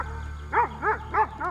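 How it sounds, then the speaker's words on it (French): A livestock guardian dog barks four times in an even rhythm, each bark rising and falling in pitch, at moderate distance over a steady low background hum. "Si un chien de protection arrive vers vous en aboyant"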